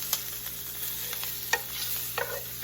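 Garlic fries in a pan for a low carb chilli, a close steady sizzle broken by a few scraping stirs of a utensil against the pan.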